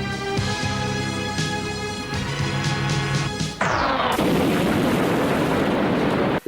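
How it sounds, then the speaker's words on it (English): Explosions and gunfire from the Doctor Who story Remembrance of the Daleks, sustained bursts of shots and blasts followed by a long roaring, hissing detonation, loud and dense. "The story really loves good explosions."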